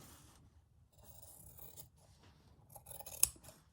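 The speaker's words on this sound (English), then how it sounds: "And just cut some straps." Scissors snipping through fabric straps for a squishy bag sewing project, close and quiet with scattered slicing rasps and one sharper final cut.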